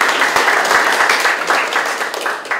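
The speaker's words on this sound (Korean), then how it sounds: "얼굴이 잘생겨서 박수를 많이 받는 김혜영" Sustained audience applause at a Democratic Party election campaign committee meeting in a hall, dense and loud with steady overlapping claps throughout.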